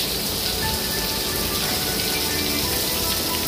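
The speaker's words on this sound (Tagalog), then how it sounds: "Ang lakas na ng ulan-ulan." Heavy rain pours down outside in Singapore, a dense, loud, steady hiss of drops on surfaces that continues evenly without a break and with no voices.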